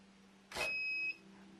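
A fingerprint keyless keypad door lock gives one short electronic beep confirming the fingerprint, clear and close in a quiet room.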